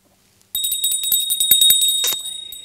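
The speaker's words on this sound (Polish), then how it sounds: "Skąd ten dzwoneczek?" A small bell rings in a quick, bright series of repeated strikes, close and fairly loud, ending in a brief shimmering flurry before fading out.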